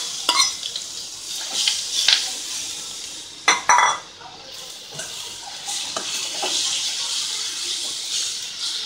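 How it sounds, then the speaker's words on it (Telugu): Grated carrot frying in a pan, with a soft sizzle under repeated scraping and stirring of a utensil against the pan, and a few sharper metallic clinks. "5-10 మినిట్స్ మనం బాగా ఫ్రై చేసుకోవాలి."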